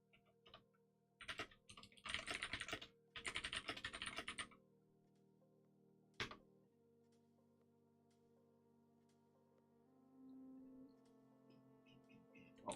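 Keystrokes on a computer keyboard come in two quick, dense bursts and then a single isolated tap, set against a quiet room hum with no talking.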